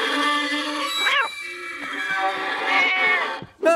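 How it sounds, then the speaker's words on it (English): A cat meows several times in a row, long and wavering, close and fairly loud, with a short sharp yowl right at the end. "You said you didn't have a cat."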